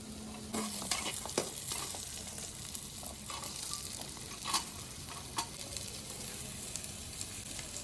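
Noodles with capsicum, carrot and cabbage fry in a pan as pepper is added, giving a steady soft sizzle broken by occasional scraping stirs, moderately close and free of talk.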